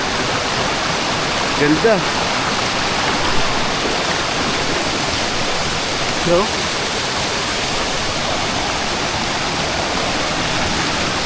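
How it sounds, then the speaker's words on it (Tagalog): Water rushing down the sides of a mountain beside a trail, a loud continuous roaring rush close by, with a few brief words of talk over it. "may mga tubig na lumalabas sa mga gilid ng bundok na dinadaanan natin"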